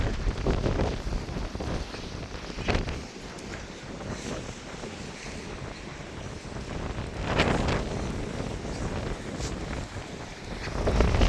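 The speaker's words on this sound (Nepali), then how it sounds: "हावाको वेग निकै नै चलेको हुनाले निकै गाह्रो परिरहेछ भिडियो खिच्नलाई पनि" Strong wind at sea roars continuously against the microphone on a cruise ship, with louder gusts surging now and then and no voices.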